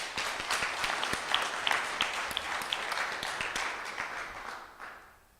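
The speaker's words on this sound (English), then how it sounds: "A clap for Dismas." An audience at a conference applauds, a dense burst of clapping that holds steady for several seconds and then fades out at the end.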